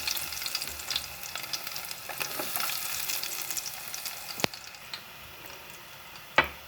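Chopped garlic frying in olive oil over high heat, a steady close hiss with a few sharp metallic clicks near the end, no voices.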